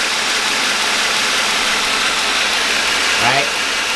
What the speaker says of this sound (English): We'll turn it on and runs the belt grinder.